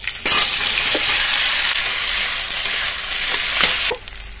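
Spices and mashed boiled potato hit hot oil and sizzle loudly and steadily, close by, with a few stirring knocks. The hiss drops away abruptly near the end, and no one talks.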